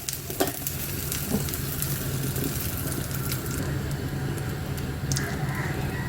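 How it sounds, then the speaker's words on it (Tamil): Dried red chillies and asafoetida sizzle in hot tempering oil for a fenugreek-leaf and lentil dish, a steady close frying crackle with occasional sharper pops. "காஞ்ச மிளகா எடுத்து வச்சுருக்கோம் அதையும் போட்டுக்கலாம்"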